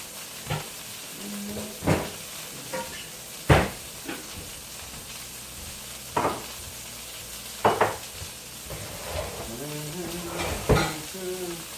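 Chicken frying in a pan with mushrooms gives a steady sizzle, broken by sharp clanks and scrapes as it is stirred and moved, close by with no talk.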